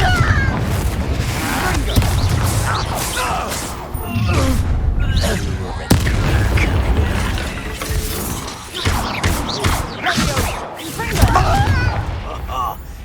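Confringo spell blasts in the video game Hogwarts Legacy, loud booming explosions with shattering crashes and debris, dense and continuous, mixed with shouted in-game voices.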